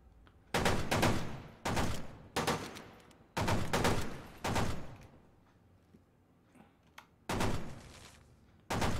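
Gunfire in the video game Fallout 76 comes in repeated loud bursts, five or six separate volleys with short pauses between them, close and sharp, with no talk over it.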